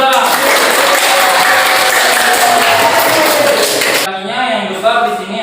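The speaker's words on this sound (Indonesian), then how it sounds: "tepuk tangan dulu untuk Zara" A classroom of students applauds for a pupil named Zara, with sustained, loud clapping for about four seconds before it cuts off into quieter room noise and talk.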